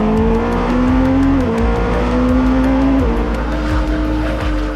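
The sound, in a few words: twin-turbocharged 4.6 liter LMDH race car engine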